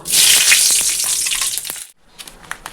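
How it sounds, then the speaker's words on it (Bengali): Green chillies frying in hot oil with panch phoron and cumin for a tempering give a loud, close, steady sizzle for about two seconds, then drop to a faint crackle with a few small pops. "কাঁচা লঙ্কা এখানে ফোড়নে নিয়েছি, 5 ফোড়ন আর জিরা মিলিয়ে, আর শুকনো লঙ্কা তেজপাতা ফোড়নে দেব।"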